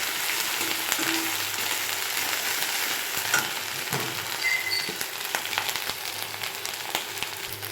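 Whole spices sizzle in hot oil with a pinch of salt in a home kitchen: a constant soft hiss with scattered sharp crackles and pops throughout, close up and with no voices.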